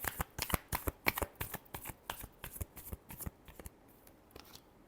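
Tarot cards being shuffled by hand in rapid, crisp riffling bursts, a dozen or so sharp flutters in quick succession that thin out toward the end, close and clear with no speech over them.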